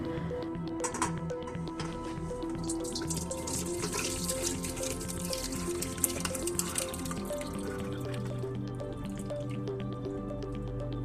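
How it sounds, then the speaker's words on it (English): Simmered dandelion liquid is strained and drips steadily into a container, a continuous patter of close water drops over a low background hum. "after this has now simmered for about 45 minutes, and we can see that the water has changed colors here, we're going to strain it"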